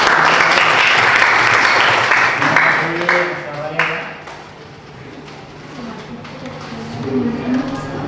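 A classroom group claps during a history lesson, a dense burst for the first few seconds that thins out and fades under talking voices.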